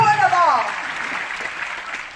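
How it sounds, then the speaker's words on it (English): A large seminar audience in Kuala Lumpur applauds in a brief, fairly loud wash of clapping that fades slightly, while a speaker's voice carries over it. "I want to give, collectively, each and every single one of you, a huge round of applause for being here today."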